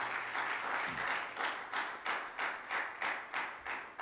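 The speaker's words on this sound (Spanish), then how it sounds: "Denle el aplauso a Él." A church audience claps in a steady rhythmic beat, a fairly soft and even round of applause with no one talking over it.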